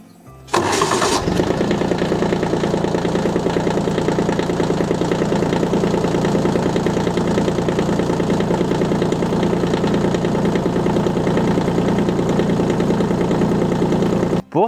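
A small diesel micro-tractor engine cranks briefly and catches, then settles into a loud, steady idle with an even chugging rhythm that runs close and unbroken to the end.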